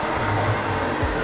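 A salon hair dryer blows a client's hair, a loud, steady rushing whir filling the clip with slight pitch wobbles as it moves.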